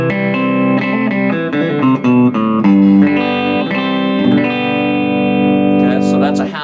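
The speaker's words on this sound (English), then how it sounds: "I'll cut the reverb off so you can hear it without the reverb." An electric guitar played through a Roland Blues Cube amplifier with the reverb switched off, set to about half a watt. The tone is sustained and lightly distorted, with chords and notes ringing steadily and loudly, and no voice over it.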